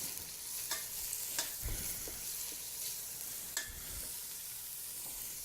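Onions fry in a pan for a plant-based stir fry with a quiet, even sizzle, broken by a few soft scraping and knocking stirs from a utensil.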